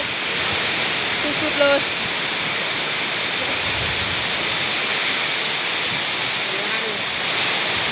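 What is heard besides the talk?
heavy rain with rushing runoff water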